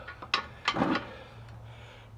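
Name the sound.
wrench snugging up Cat 60 engine manifold bolts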